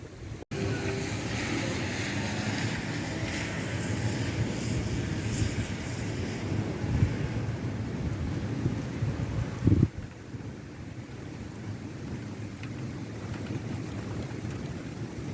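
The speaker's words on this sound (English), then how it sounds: "That's quite a storm. It's starting to rain a bit now." Steady rumbling wash of rain and wind during a severe Ontario thunderstorm with lightning, low thunder rolling through, a sharp crack near the start and a heavier boom around ten seconds.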